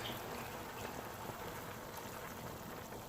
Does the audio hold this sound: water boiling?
yes